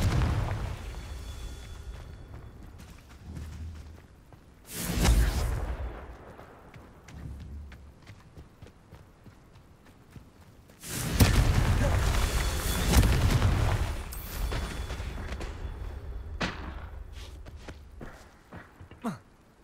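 Confringo fire-blast spell in Hogwarts Legacy, two loud booming explosions several seconds apart, each a heavy burst that tails off, with footsteps and quieter game ambience between them.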